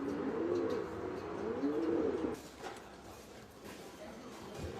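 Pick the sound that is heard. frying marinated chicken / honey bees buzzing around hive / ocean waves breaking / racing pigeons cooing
racing pigeons cooing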